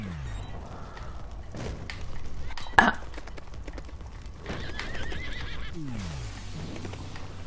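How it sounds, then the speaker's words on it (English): A horse in the motorbike video game Trials Fusion whinnies repeatedly over steady hoof clip-clop and mechanical game noise, including a loud thump midway and falling neigh sweeps near the start and end. "This horse makes weird noises."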